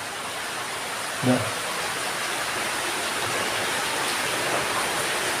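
Flood water flows steadily around a leaking house. The wash is broad and hissing, continuous and fairly close, with a brief knock or clatter near the start.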